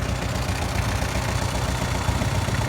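A used walk-behind tractor engine runs steadily during a test, a continuous close, loud, low throbbing idle with constant vibration and no talk.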